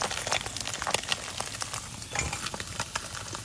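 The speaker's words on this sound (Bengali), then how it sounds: "আস্তে আস্তে ভালো করে মাছটাকে ভাজতে হবে।" Fish pieces, including heads, fry slowly in hot oil for a Bengali sour fish curry, with a constant close crackle and sizzle and occasional stirring scrapes.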